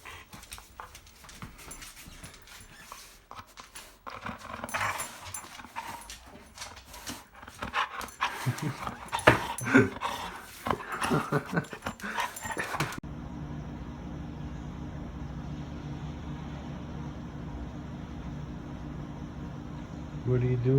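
Roxy, a pet dog, pants and whimpers close by over a long stretch, joined by scattered rustling and brief human voices, with a steady hum taking over the later part.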